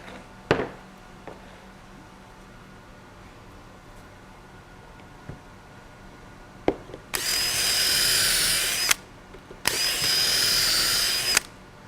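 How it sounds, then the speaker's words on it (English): A power drill bores pocket holes in wood trim pieces for a window frame, heard as two sustained loud whirring bursts of about two seconds each near the end, separated by a short gap, after a few faint clicks and knocks. "Now that I've got the pocket holes drilled in my side pieces"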